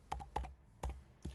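Fingers tapping keys on a computer keyboard to enter a one-time code, four distinct clicks in an uneven rhythm, close and fairly soft.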